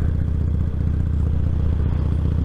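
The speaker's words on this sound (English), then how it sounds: "I can hear wind noise in the helmet" Steady broadband wind roar inside a motorcycle helmet while riding at about 30, with a low engine drone underneath, continuous and close, with no voice over it.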